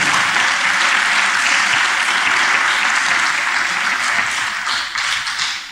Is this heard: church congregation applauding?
yes